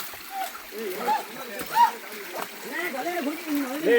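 A waterfall at Piranmalai hill gives a steady, broad splashing rush of falling water that runs through the whole stretch, largely covered by nearby voices talking loudly over it.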